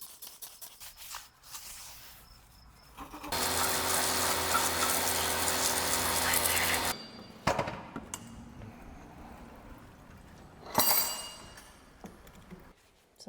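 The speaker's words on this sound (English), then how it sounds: "let's clean them up with a little pressure washing" A pressure washer blasts water over old Yamaha RT 180 two-stroke motorcycles, a loud steady hiss lasting a few seconds, then stopping, with shorter bursts and clatter afterward.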